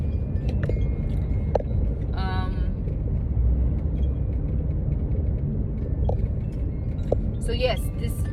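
Steady low engine rumble and road noise heard from inside a moving car, with occasional creaks and small mechanical clicks from the cabin, continuing throughout.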